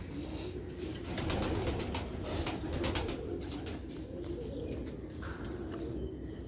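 Sialkoti pigeons on a rooftop cooing steadily and close by, soft repeated low coos over a constant background with some faint chirps.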